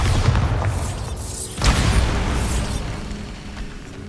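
A Bombarda spell blast in the Hogwarts Legacy video game: a loud, deep booming explosion that hits around the midpoint and rolls into a rumbling low tail over steady game ambience.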